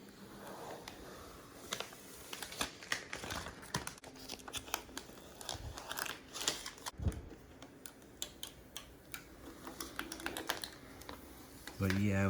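Small plastic protective bits are ripped off an Alienware Aurora R11 desktop computer case. The result is a close, irregular series of sharp crinkling snaps and clicks spread throughout, with faint voice in the background.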